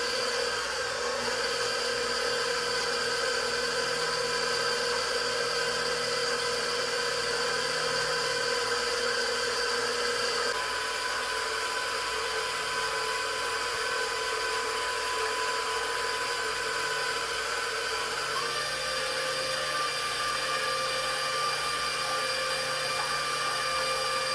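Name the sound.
electric mixer on low mixing cookie ingredients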